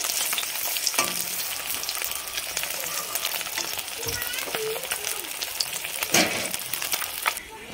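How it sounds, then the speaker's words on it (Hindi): Katla fish pieces fry in a pan for a Bengali-style dahi katla, a steady loud sizzle of hot oil running throughout with a few sharp spatter bursts and light utensil clinks near the end. "अब इसी तरीके से हम फ्राई कर लेंगे"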